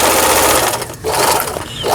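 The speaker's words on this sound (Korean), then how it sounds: "신거 재봉틀의 메리트 SL8이라는 기계" A Singer Merritt SL8 sewing machine runs after repair, its fast, loud, close mechanical whirr and needle chatter briefly slowing and dipping near the middle before picking back up, alone with no talk.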